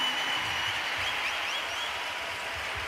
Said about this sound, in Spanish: les quiero pedir un aplauso muy fuerte para ellos